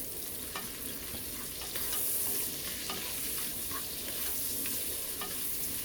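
Beef and tomatoes sizzle steadily in a hot pan while being stirred for ampalaya con carne, a continuous dense frying hiss with occasional scraping of the utensil.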